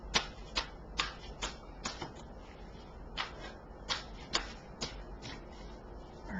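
Tarot cards being shuffled: a series of crisp, irregular riffling bursts and snaps, close and fairly quiet, over a low steady room hum with no talking.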